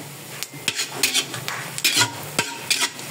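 Ginger toasting in oil in a pan for pork dinuguan, stirred with a utensil: a low sizzle under repeated scraping strokes and light clinks against the pan, close and uneven.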